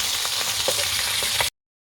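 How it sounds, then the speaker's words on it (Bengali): Rohu fish pieces frying in hot oil, a dense close sizzle with a few light stirring taps, lasting about a second and a half before cutting off. "আর এদিকে আমার মাছ ভাজা হচ্ছে।"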